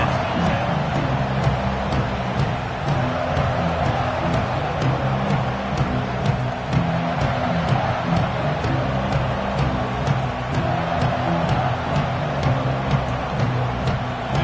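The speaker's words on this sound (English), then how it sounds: "This crowd ready to make its presence known." A football stadium crowd keeps up a steady, dense roar that holds at a constant level throughout, with no distinct bursts of cheering standing out.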